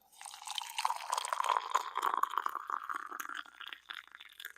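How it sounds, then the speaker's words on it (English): Coffee trickling and dripping steadily into a cup for a few seconds, a close, soft patter with a faintly rising pitch as it fills. "See if you can hear this, get some coffee ASMR."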